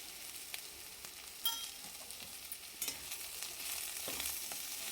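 Green chillies sautéing in a pan with turmeric and salt, a steady soft sizzle with light stirring scrapes and a few sharper clinks, close and alone without any talk.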